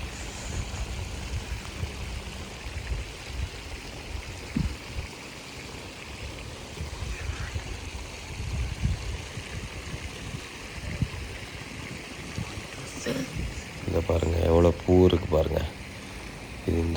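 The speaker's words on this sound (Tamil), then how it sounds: "fountain water fountain" A water fountain at the Sheraton hotel in Ethiopia gives a steady, rushing splash throughout, with a voice briefly heard near the end.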